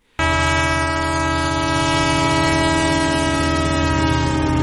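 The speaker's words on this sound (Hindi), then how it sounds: "फिर दूर से एक और आवाज आई, ट्रेन की" A train sounds its horn in a long, loud, sustained chord that starts abruptly and holds steady, rumbling beneath.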